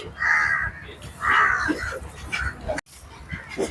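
Crows cawing at a beach, a few harsh calls repeating in bursts over wind and surf noise, fairly close and moderately loud.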